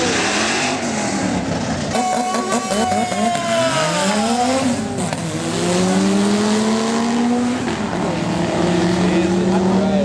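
BMW E36 M3 race car at a drag strip, its engine revving hard with rising and falling pitch sweeps as gears change, loud and close with crowd noise underneath.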